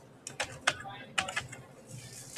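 Typing on a computer keyboard, a handful of sharp key clicks in short irregular bursts, close and fairly quiet, with no talking over them.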